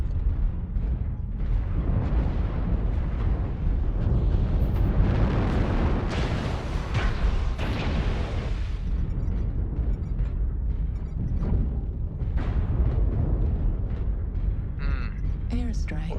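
Airstrike explosions in a mech combat video game rumble in a dense, continuous barrage of heavy booms and blasts, loud throughout, while a voice talks over the battle.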